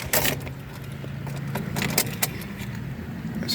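Keys jangle and click in the ignition of a 2012-2017 Toyota Camry that fails to start, sharp metallic rattles over a low steady hum inside the car, with no engine cranking.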